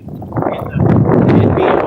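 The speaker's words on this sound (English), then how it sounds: "Look at that strong wind, boy." A strong gust of wind buffets the microphone in a burst of rumbling, roaring noise that swells after a brief lull and holds steady, loud and close, with no one speaking over it.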